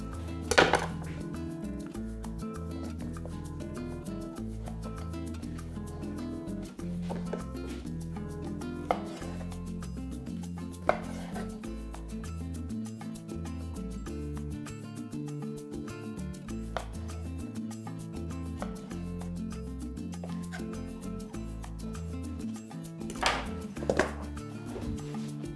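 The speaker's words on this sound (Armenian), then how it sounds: "լոբին կտրատում ենք շեղակի" Green beans are sliced diagonally with a knife on a wooden board set over a damp cloth, for a celery and grape salad. Sparse knife taps sound intermittently over soft background music.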